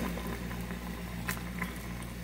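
Korean tteokbokki with mozzarella boiling in a pan, giving a steady close bubbling and soft popping that carries on without a break and with no talk over it.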